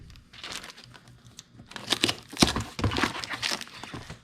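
Cardboard shipping box being pushed and folded down flat, a run of close crinkling and crunching creaks with several louder bursts in the second half.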